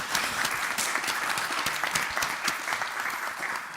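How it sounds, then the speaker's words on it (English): Conference audience at WordCamp Europe 2023 applauding a speaker: dense, steady clapping from a sizeable crowd, continuous and even for several seconds. "a round of applause for our speaker"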